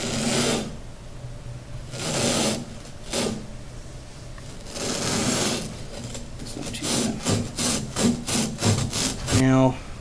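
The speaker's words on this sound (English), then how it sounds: "Now you can cut this with a hacksaw or a bread knife." A hacksaw cuts through a fuel system pickup tube for an Aeromotive Phantom fuel system in close, rasping strokes, slow and spaced at first, then quickening into a run of short strokes before stopping.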